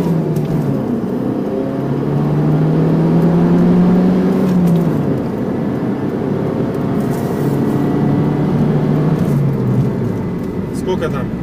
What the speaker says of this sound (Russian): Сейчас посмотрим, как машина едет на таком промытом интеркулере.